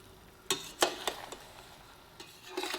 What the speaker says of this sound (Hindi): अब इसको अच्छी तरह मिक्स कर लें।